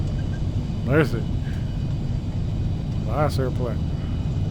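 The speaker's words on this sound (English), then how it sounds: "Nice airplane." A propeller airplane in a flight simulator passes by with a steady engine drone and a rising, falling buzz, fairly close and loud, while someone talks over it.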